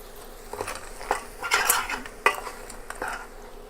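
A spoon scrapes and clinks inside a pot while crab curry with black pepper and salt is stirred, irregular metallic knocks and rustles over a soft sizzle, close and without talk.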